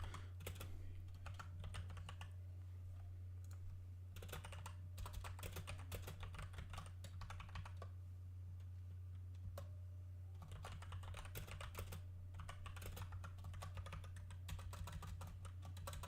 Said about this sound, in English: I'm going to type this out for them to understand